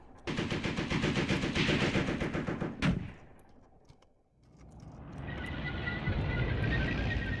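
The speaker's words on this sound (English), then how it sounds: "Oh, they're firing at those guys around." Gunfire rattles in a WWII tank warfare video game set in Tunisia in 1943: a dense machine-gun burst, then a sharp crack and a brief lull, before a rumbling wash of distant firing and engine noise swells back.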